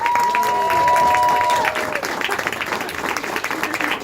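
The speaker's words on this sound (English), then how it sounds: "I need you to give her a massive round of applause for her too" A dinner dance crowd gives a loud, sustained round of applause after a speech, with a whistle and cheers rising over the dense clapping before it thins slightly toward the end.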